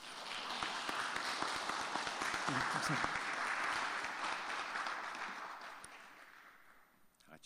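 A crowd applauds steadily in a large room at a university chapel service, the clapping swelling and then fading, with a brief spoken reply near the end.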